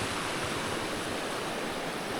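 River water rushing steadily beneath a road bridge in Pensacola, North Carolina, months after flooding; a continuous, even roar of flowing water, close and unbroken, with no voices.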